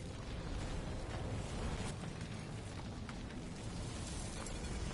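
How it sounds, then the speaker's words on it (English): Canisters exploding in a PS4 game, heard as a loud, dense, sustained roar of blast noise that fills the whole stretch without a break, with no voices. "Not to worry. It'll be a contained explosion."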